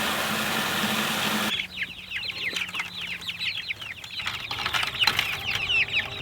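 Meat chickens clucking in a freshly moved chicken tractor on grass, a busy flock of overlapping chirps and clucks at close range after a burst of broad noise.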